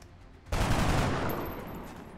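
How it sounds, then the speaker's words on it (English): A gunshot fired at an alien in XCOM: Enemy Unknown lands as a sudden loud crack, then a dense, sustained burst of gunfire rolls on for more than a second before tailing off, with no talk over it. "I'm just gonna shoot this guy."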